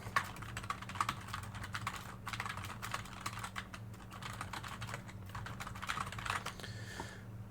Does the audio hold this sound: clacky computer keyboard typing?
yes